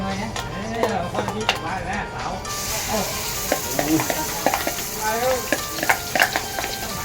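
Curry paste stir-frying in a hot pan, a steady sizzle with repeated scraping of a utensil against the pan, heard close up while a person talks.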